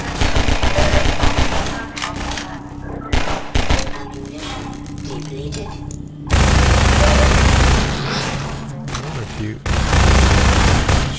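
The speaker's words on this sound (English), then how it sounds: "Shooting into the wall or something." Repeated gunshots into a wall in the video game Half-Life 2, loud rapid bursts of fire alternating with short pauses, close and dominant, with talk in between.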